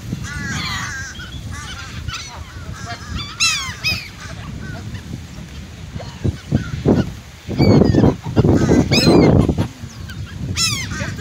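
Geese honk repeatedly and loudly among waterfowl at a boat launch as they are fed birdseed, the harsh calls overlapping in busy bursts with splashy, rustling noise underneath.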